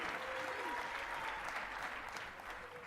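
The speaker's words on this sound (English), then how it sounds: "give her a round of applause as she comes up to the podium here." A conference audience at Radiodays Europe claps steadily as a speaker walks up to the podium. The dense applause holds for a few seconds and eases slightly toward the end, with a faint voice underneath.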